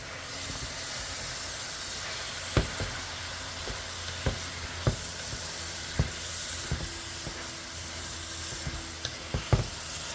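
Diced tomato and shredded coconut cook in a pan for a Kerala-style beef curry, giving a steady hiss and sizzle with occasional sharp pops and crackles spaced irregularly, close and continuous with no talking.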